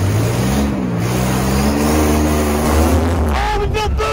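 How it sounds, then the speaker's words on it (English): A turbocharged rat rod engine revs loudly and close, pitch climbing and falling in sustained pulls, with a high whine above the rumble before it drops off near the end and a voice breaks in. "Oh, we built boost! Oh, did you hear the turbo?"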